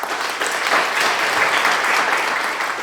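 Steady, dense applause from an audience at an investment company launch event thanking a speaker, sustained and even throughout with no voices standing out.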